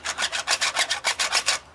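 3D printed plastic parts of a DIY Nerf blaster slide and rub against each other during priming, making about ten quick, even, raspy scrapes close by with no voices.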